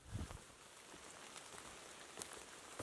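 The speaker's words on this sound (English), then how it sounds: "I knew it was going to rain all night, and it did, and it's still raining" Rain falls steadily on a natural shelter at a solo bushcraft camp, a soft continuous patter with scattered louder drops landing nearby.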